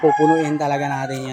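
A Rhode Island Red rooster crows once, close and loud, a drawn-out harmonic call lasting over a second, with a voice speaking over it.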